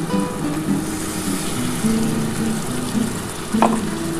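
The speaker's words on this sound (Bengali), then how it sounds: "এই যে মশলার জলটা বন্ধুরা আমি দিয়ে দিচ্ছি।" Spice water poured into a pan of frying pabda fish curry produces a steady bubbling sizzle, fairly loud and continuous, with a brief sharper spatter near the end.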